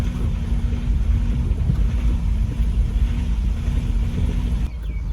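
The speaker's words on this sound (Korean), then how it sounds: "엔진 소리가 좋지 않아요 다다다다다다" A steady, low, rumbling engine drones continuously in Myanmar, close and loud, with wind buffeting the microphone; it cuts off abruptly near the end.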